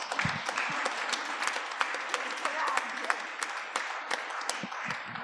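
A full hall audience at a book talk applauds the men present, a dense wash of clapping with scattered sharp individual claps, while voices murmur in the room underneath.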